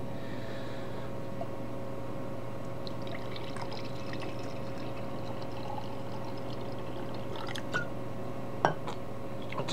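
Drinking water is poured into a glass as a steady, faint trickle over quiet room hum, with a couple of small clinks near the end.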